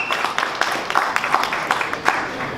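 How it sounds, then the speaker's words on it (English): Audience applause at a ladies' night out event, a steady crowd of clapping hands with scattered louder claps, sustained throughout at moderate volume. "So let's give yourself a round of applause."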